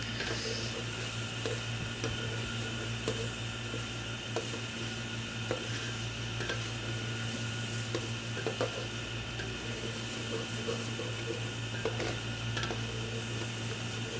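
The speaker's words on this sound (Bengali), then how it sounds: "ভালো করে কষায় নিচ্ছি আর কি এর আগে পেঁয়াজ তেজপাতা সব কিছু দিয়ে সুন্দর করে কষায় নিচ্ছি" Onion and bay leaves sauté in a pan with a steady, even sizzle and faint stirring scrapes throughout, close by and with no voices over it.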